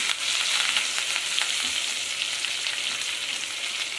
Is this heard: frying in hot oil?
yes